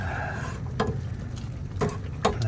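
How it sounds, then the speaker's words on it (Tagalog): A spoon stirs a jackfruit ice candy mixture with starch in a pot, giving soft scraping swishes and a few sharp clinks against the side, close and without talk. "I-mix lang natin para hindi mabuo yung mga full starch natin"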